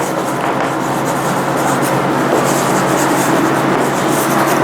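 Chalk rubbing and scratching steadily across a board during a lecture on pipe design, a continuous dry scraping texture that fills the whole stretch without any talk over it.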